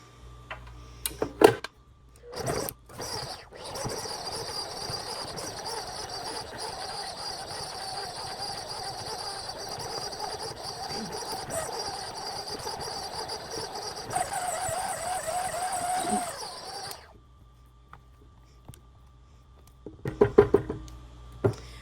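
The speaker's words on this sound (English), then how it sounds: "We're going to beat 2 sticks of butter until they are creamy." An electric mixer beating two sticks of cold butter until creamy, a steady whirring drone with faint rhythmic ticking running for about fifteen seconds between a few clicks and knocks, with no talking.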